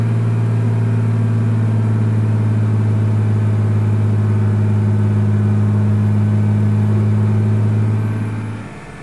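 Setra S517 coach engine in Euro Truck Simulator 2, cruising at 90 km/h in fifth of eight gears: a loud, steady low drone with constant hum throughout, fading slightly at the very end, no talk.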